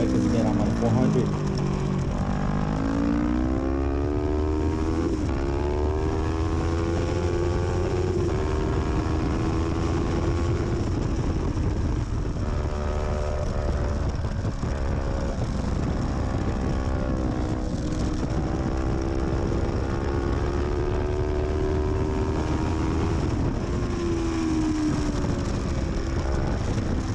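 Racing motorcycles launch on track, including a 400 pulling away from an R3. Engines scream loud and close throughout, with revs rising and falling as the bikes shift through gears in a dense, unbroken roar.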